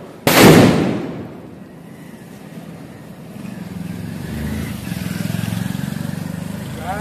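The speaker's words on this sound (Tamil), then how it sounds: "ஒரு வெடியோட சைஸ் பாருங்கள், அந்த அளவுக்குமே சவுண்ட் இருக்கா நம்ம செக் பண்ணுவோம்." A large Avatar 2 firecracker goes off during Diwali with one loud, sharp blast near the start, then a long rumbling, crackling tail that fades into a lingering, steady background rumble.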